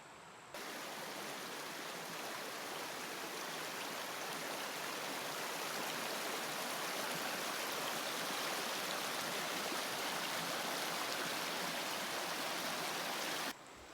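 Harper Creek rushes steadily along a forest loop trail, a loud, continuous broadband wash of flowing water heard up close and alone, unbroken for the whole stretch.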